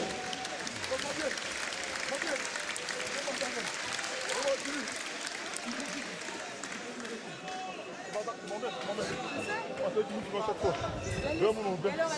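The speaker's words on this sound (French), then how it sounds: "On a tonnerre d'applaudissements pour ces deux hommes chez les 85 kg" Crowd applause for two 85 kg light heavyweight fighters after a bout, a steady wash of clapping and cheering that runs throughout, with an announcer talking over it.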